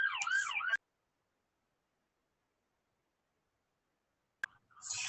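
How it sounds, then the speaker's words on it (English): An ambulance siren wails in a rapid warbling sweep, loud and close for under a second before cutting off, then returning briefly at the end after a long silence. "there's an ambulance coming by, I'm sorry."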